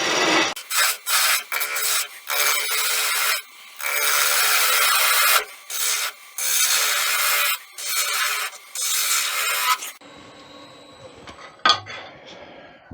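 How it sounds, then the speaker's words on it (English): A wooden sword blade spins on a wood lathe while being sanded, giving bursts of harsh, scratchy rasping with short pauses for about ten seconds before the sound drops to a faint, quiet tail. "you're going to have to do a lot of sanding on this end."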